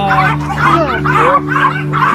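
Dog barking and whimpering in a puppy-mill setting: a close series of about five yelping bow-wow barks with whiny tails, loud and rhythmic, over a steady low hum.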